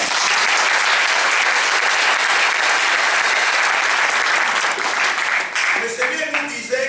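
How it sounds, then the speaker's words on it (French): A large audience at a church gathering bursts into loud, sustained applause and cheering, dense clapping filling the space without a break before tapering slightly near the end. "Est-ce que quelqu'un peut acclamer?"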